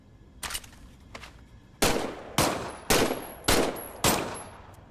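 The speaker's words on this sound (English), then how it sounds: "why don't you test fire your weapon?" A weapon is test-fired in the Medal of Honor: Above and Beyond VR game: a couple of faint early shots, then five loud, evenly spaced gunshots, each with a ringing decay.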